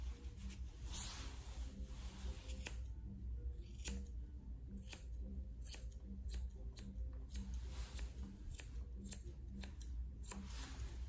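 Small 6.5-inch grooming scissors trimming the hair of a small Shih Tzu mix dog, a steady series of faint, close snips repeating at an even rhythm over a low background hum.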